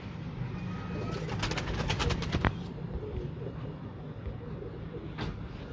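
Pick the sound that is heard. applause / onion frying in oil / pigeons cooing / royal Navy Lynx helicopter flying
pigeons cooing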